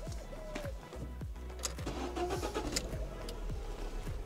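A car engine idles with engine flush cleaner added before an oil change, giving a quiet, steady hum with faint repeated ticking and clicking. The sound is soft and even, with no talking.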